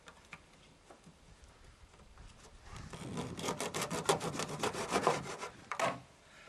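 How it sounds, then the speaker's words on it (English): A blade saws and rasps through the plastic top of a caulking tube, starting faint and building into a close, scratchy series of back-and-forth strokes. "I'm now going to cut the top off that."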